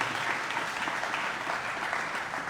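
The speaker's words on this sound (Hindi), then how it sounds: "जोरदार दोनों हाथ उठाकर ताली बजाइए उनके लिए" Steady, dense applause from a large audience at a Ram Katha religious discourse gathering, sustained and even throughout with no talk over it.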